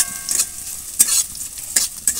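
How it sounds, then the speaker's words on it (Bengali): Garlic frying in a pan for a lentil dish, with several short bursts of stirring and sizzling close by, separated by quieter hissing. "রসুনটা খুব ভালো করে ভাজা হয়ে গেছে"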